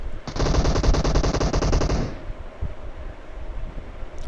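Gunfire in the mobile battle-royale game PUBG Mobile: a loud, rapid automatic burst of about two seconds that cuts off abruptly, leaving low rumbling ambience.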